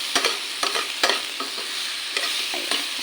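Shrimp sinigang ingredients are stirred in a hot pot, with a spoon scraping in quick repeated strokes over a low sizzle, close up with no voices.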